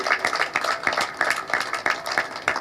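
A congregation at a celebration-of-life gathering claps together in a steady, brisk rhythm, each clap sharp and close, forming an even run of about eight beats.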